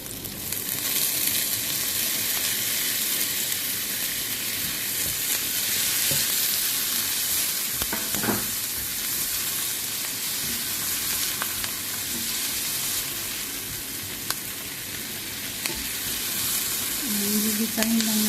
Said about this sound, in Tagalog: Gigisahin lang natin yung sibuyas, bawang, kamatis.